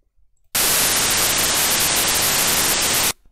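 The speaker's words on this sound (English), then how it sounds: "It sounds like a white noise." White noise played back as a loud, steady hiss spanning the whole range, starting abruptly and cutting off cleanly after about two and a half seconds, with nothing else underneath.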